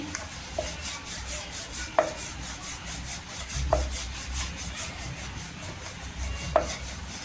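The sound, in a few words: rolling out chapati dough with a rolling pin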